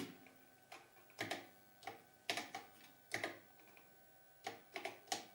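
An Apple IIe computer starting up in a cluttered home setup, giving faint, irregular clicks and ticks in small bursts, like drive or relay activity, set against a quiet background with no voices.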